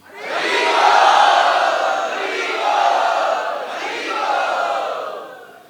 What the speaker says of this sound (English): Let us welcome them by loudly chanting Hari Bol.